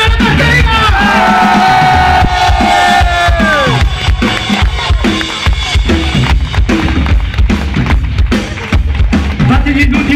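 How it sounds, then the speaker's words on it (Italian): Audience at a punk rock night in Suzzara cheers and yells for the band's drummer, a loud, dense crowd roar with hollering and noisy bursts swelling over ringing stage sound. "fate un ultimo applauso per Nicola Brugnano la batteria"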